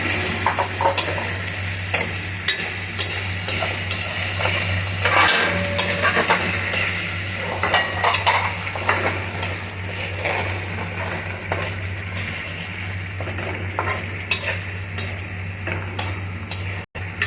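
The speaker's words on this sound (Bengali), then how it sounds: "এই যে টমেটোটা দিয়ে কষতে থাকবো" Tomatoes sautéing in hot oil for a Bengali katla kalia fish curry, a steady sizzle with repeated ticks and scrapes of stirring against the pan, continuous and close over a low steady hum.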